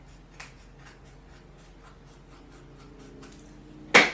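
Scissors snip through craft material in a series of small, quiet, close cuts, ending with a louder rustle and clack.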